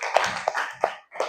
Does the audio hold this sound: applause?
yes